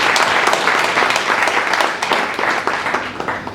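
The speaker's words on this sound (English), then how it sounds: "We can give him a round of applause" Short burst of lively applause from a medical awards ceremony audience, dense and close clapping that stays strong for a few seconds and eases slightly toward the end.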